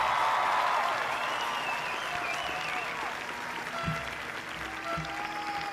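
A 2021 high school graduating class at commencement cheering and applauding, a dense wash of clapping and shouts filling the space, loudest at first then gradually easing.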